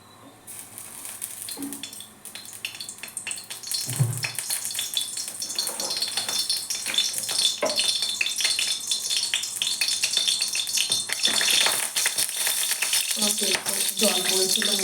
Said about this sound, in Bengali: একটু পাঁচফোড়ন দিয়ে দিলাম আমরা, একটু শুকনো লঙ্কা, একটু তেজপাতা দিয়ে দিলাম